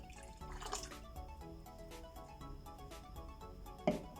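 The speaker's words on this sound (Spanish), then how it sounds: "Vamos a colocar el agua con la soda cáustica sobre el aceite" Caustic soda water being poured onto used cooking oil for homemade soap, quiet liquid trickling and dripping with a few small splashes and a brief louder clink near the end.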